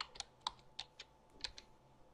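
Keys on a computer keyboard are tapped to type a search, giving about seven crisp, close clicks at an uneven pace.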